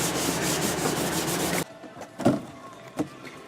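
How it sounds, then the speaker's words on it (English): Fresh sandpaper rubbing across a fiberglass car bumper under repair, a loud continuous scratchy rasp that stops abruptly, followed by a quieter pause with a couple of isolated scuffs and knocks. "no better feeling than fresh sandpaper"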